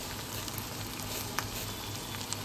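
Masala sizzling as it is slowly sautéed with minced meat for Kolkata-style egg devil, a steady close crackle with small pops and light stirring, no voices.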